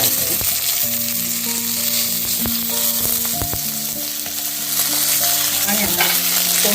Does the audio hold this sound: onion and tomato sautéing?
yes